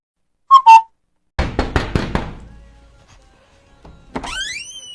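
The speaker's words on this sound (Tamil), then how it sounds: "கதவை தட்டின சீக்கிரம் வந்து திறக்க மாட்டியா?" Four or five sharp knocks rap on a door in a quick uneven run, close and loud, preceded by two short whistle-like tones and followed by a rising electronic swoosh.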